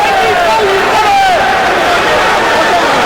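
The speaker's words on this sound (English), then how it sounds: "we have a disgruntled crowd here in Montreal" A disgruntled boxing crowd in a Montreal arena, a dense, loud wall of booing and jeering that holds steady throughout, with a few individual shouts rising above the roar.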